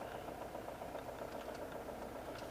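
A John Deere X724 lawn tractor engine idles just after a cold start, a steady mid-pitched drone with faint knocking, running close and continuous throughout.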